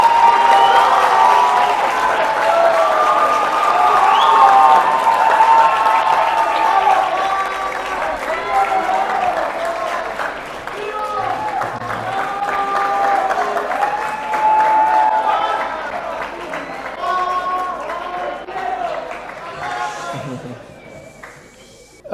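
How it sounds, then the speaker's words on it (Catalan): Audience applause for a student group at a school event, loud clapping mixed with crowd chatter and voices, gradually fading over about twenty seconds. "Per favor, un aplaudiment."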